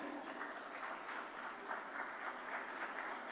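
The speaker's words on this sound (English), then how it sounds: "Can we have a huge round of applause" Audience at an ANMI WIRC Stocktech 2026 conference applauds steadily as a dignitary is welcomed to the stage, a dense, even wash of many hands clapping at moderate volume throughout.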